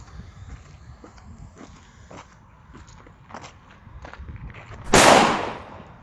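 A Fire Event 1960er Super Böller 2 firecracker loaded with 5.5 grams of NEM explodes in one sharp, loud bang that fades quickly, following a stretch of quiet outdoor rustling and faint thuds.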